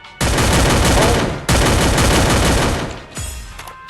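Loud, dense bursts of automatic gunfire from the video game Garena Free Fire, two long sustained volleys followed by a shorter trailing burst, with no talking.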